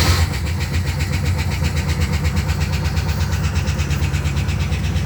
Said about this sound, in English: 73 rolls, Silver Shadow, Cold Start, Cold Night, flat battery